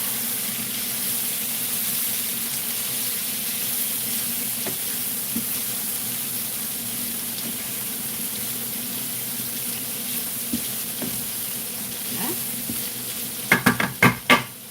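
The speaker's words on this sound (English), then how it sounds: "then we can give it a good stir up" Food for an Egyptian dish being stirred in a pot gives a low, steady simmering hiss for most of the stretch, with a few faint scrapes and a burst of sharp clinks near the end.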